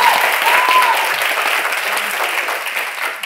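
A studio audience at a quiz show gives a round of applause for two contestants, a loud, thick burst of clapping that slowly eases off and fades toward the end.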